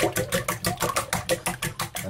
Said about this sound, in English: So I'm just going to whisk all that up.